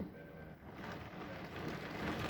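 Heavy rain pours down in a steady, dense hiss that grows slightly louder toward the end, with no voices.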